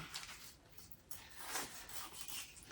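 A knife cuts the fins off a dogfish in a series of quiet, close rasping and rubbing strokes that come in short irregular bursts, with no voice over them.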